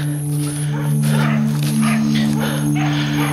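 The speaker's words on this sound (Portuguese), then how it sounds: "Vocês estão escutando os cachorros latirem aí, tá, pessoal?" Dogs on a neighboring farm bark in short bursts at a distance, under a steady electrical hum, with someone talking over them.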